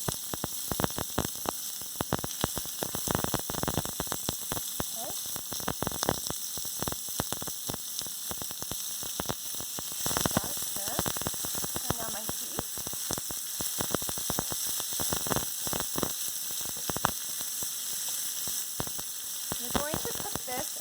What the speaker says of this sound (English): You're going to cook this until the onions are browned.